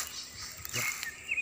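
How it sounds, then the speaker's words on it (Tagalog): Faint, brief bird calls in a forest of mahogany and other trees, a few thin chirps over quiet background hiss. "naririnig mo talaga yung mga huni ng ibon na masarap pakinggan sa tainga"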